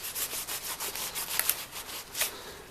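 Rust scrubbed off the metal of a 1910s pop gun, quiet rhythmic back-and-forth rubbing strokes, about a dozen in quick succession with a couple of faint clicks.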